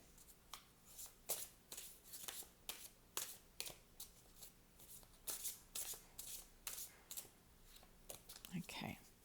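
Oracle cards are shuffled by hand in a series of quick, crisp riffling bursts, close and fairly quiet, repeating in an irregular rhythm with a brief faint vocal sound near the end.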